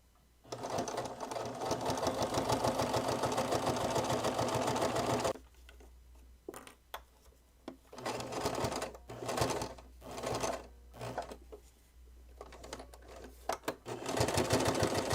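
Domestic sewing machine top-stitching the fly of improvised snow pants, a long fast continuous rattling run followed by a string of short stop-start bursts, close and clear.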